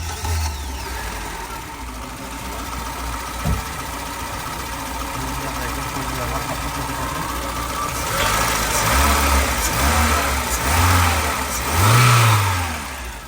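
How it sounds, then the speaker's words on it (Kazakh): A Lada Zhiguli car engine runs steadily, then revs up in several rising surges toward the end, with some talking nearby at a car market. "Motoru четкий иштеп турат"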